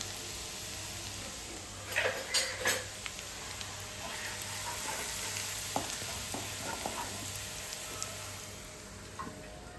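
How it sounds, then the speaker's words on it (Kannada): Chopped garlic sizzling in hot oil in a home kitchen pan, a steady close crackle with a burst of sharp stirring scrapes early on and scattered pops later. "ಅದನ್ನು ಹಾಕಿ ಇದನ್ನು ಸ್ವಲ್ಪ ಫ್ರೈ ಮಾಡ್ಕೋತಾ ಇದ್ದೀನಿ"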